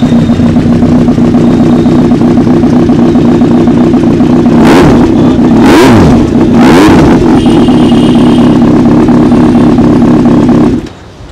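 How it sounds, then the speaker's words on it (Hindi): A Benelli 600i superbike with about 5,700 on the clock cold-starts into a loud, steady idle. Three sharp throttle blips rise and fall midway, the engine then settles back to idle and cuts off at the end. No one speaks. "अब एक बार बाइक को कोल्ड स्टार्ट कर"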